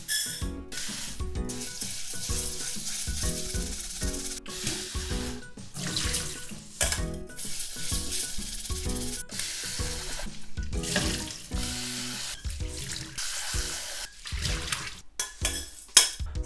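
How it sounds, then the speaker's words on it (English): Rice being rinsed by hand in water at a kitchen sink for a Japanese rice porridge, with steady splashing, swishing and trickling that stops and restarts in short bursts, close by and fairly loud, with no talking. "As the first thing, I'm gonna rinse the rice."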